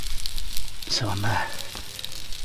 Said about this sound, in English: just putting this lamb steak in now